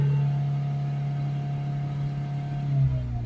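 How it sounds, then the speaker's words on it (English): A diesel car engine with a troubled DPF revs up from idle, holding a strong steady drone with a smooth tone that drops slightly near the end, close and loud with no talk. "Do a full rev."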